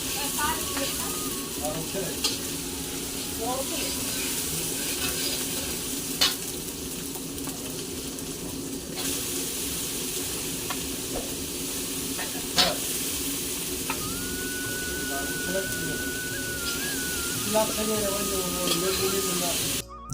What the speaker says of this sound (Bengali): এদিকে মামিমা রান্না বসিয়ে দিয়েছে বাঁধাকপি আর কি সব রান্না করছে